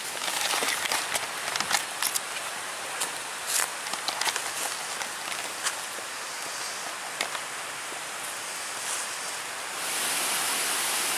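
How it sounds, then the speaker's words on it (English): Mosquito Falls, a waterfall at Pictured Rocks in Michigan, rushes as a steady broadband wash of water that stays loud and continuous throughout, with a few brief rustling or stepping sounds near the start and no talking. "And now we have come up to Mosquito Falls."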